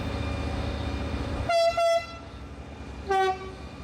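A Stadler-built KiwiRail locomotive sounds its horn in the South Island near Christchurch, first two quick blasts and then a third after a pause, loud and close over a steady rumble of the engine running underneath.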